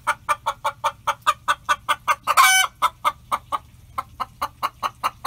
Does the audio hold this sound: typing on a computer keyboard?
no